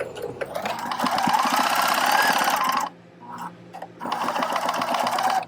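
A sewing machine backstitches layered fabric for a face mask, running in a loud, steady mechanical rattle, pausing briefly, then resuming at the same close, even pace.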